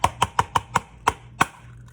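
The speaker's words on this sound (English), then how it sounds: "I like to crack my egg into a separate bowl" An egg rapped against the rim of a separate bowl: a run of seven sharp, close knocks, quick at first and then slower, with no talking.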